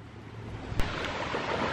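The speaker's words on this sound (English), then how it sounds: "we've made it back to the beach" Surf and wind on a beach, a soft continuous wash of waves with breezy rumble and one brief knock, heard alone without talk.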